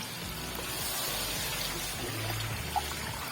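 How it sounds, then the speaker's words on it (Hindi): Water poured into a pot of chicken pulao masala, a soft steady pouring and trickling wash lasting several seconds, faint and close, with a small clink near the end and no voices. "अब यहाँ पे पानी शामिल करेंगे"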